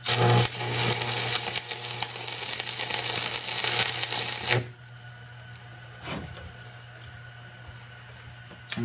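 A welder tack welds a steel wheel for an engine cart, giving a loud, harsh crackling buzz for several seconds that stops abruptly, leaving a quieter hum with a faint knock afterward.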